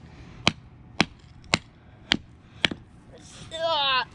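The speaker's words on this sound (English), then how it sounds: "You want me to swing the hammer some?" A hammer drives a chisel into a geode with five sharp, evenly spaced metallic strikes, close up, followed by a brief voice at the end.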